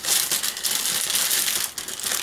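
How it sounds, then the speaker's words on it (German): A plastic bag sealed with tape is pulled open, giving loud, close, continuous crinkling and rustling of the bag with brief crackling bursts and no voices. "Immer ist es dann so, dass ihr die Tüten mit diesem Band zumachen, wo es immer ein bisschen schwierig ist, das dann mal wieder aufzubekommen"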